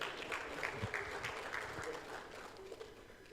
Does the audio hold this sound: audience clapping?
yes